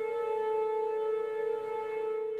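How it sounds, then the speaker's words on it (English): A steady, wailing outdoor tornado warning siren holds a sustained tone, loud and unbroken, with no voices. "Outdoor warning sirens are placed in locations where people congregate"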